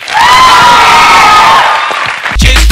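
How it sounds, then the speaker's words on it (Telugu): A TV show audience cheering, whooping and clapping loudly in a studio, a dense burst of crowd noise close up, with a brief sharp thud near the end. "గట్టిగా చప్పట్లు కొట్టండి రా"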